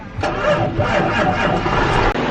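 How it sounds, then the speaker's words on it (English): A 9570 RT tractor, hitched to a chisel plow, cranks and fires up into a loud, steady engine rumble that holds close and continuous. "I'm gonna fire up the 9570 RT here and give Onyx a quick lesson in running the chisel plow."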